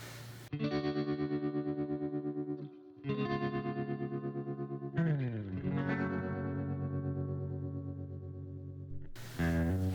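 An electric guitar with humbucker pickups plays through a distorted chorus effects pedal, sustained thick chords with a wobbling modulated shimmer, loud and close, changing chords every few seconds.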